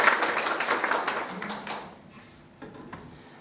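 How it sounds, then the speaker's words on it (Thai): An audience at a marketing seminar lecture gives a short burst of clapping that starts fairly full and quickly thins and fades away within about two seconds. "ถ้าดีขอเสียงปรบมือให้โมเดลด้วยครับ"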